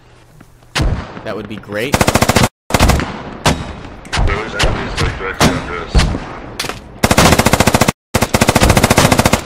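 Heavy gunfire and mortar fire in the tactical shooter Squad, rapid machine-gun bursts and booming impacts crowding the whole stretch, loud and close, with a voice speaking briefly over the combat.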